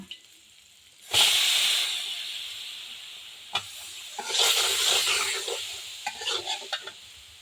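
Deshi shing fish (stinging catfish) dropped into a pan with salt and turmeric and frying in a little oil, a loud hiss bursting in then fading, with further sizzling surges and stirring clatter near the mic.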